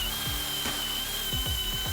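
A cheap Harbor Freight angle grinder grinds pipe with a steady high-pitched motor whine, punctuated by several rough scraping bursts as the disc bites the metal, close and continuous.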